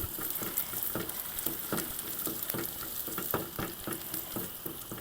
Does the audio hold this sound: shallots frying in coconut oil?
yes